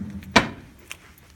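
A drawer is pulled open with one sharp, close clunk, then a quieter knock shortly after against a near-silent room.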